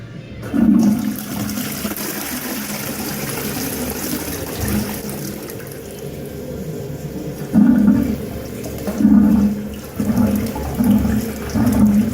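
A toilet flushes in a Subway restaurant restroom in Bexhill-on-Sea, a loud, close rush of water that churns and surges repeatedly as the bowl drains and refills.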